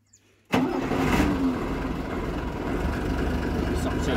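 A Mercedes truck's diesel engine cranks and catches with a sudden loud start. It then settles into a steady, rumbling idle close by, holding for several seconds.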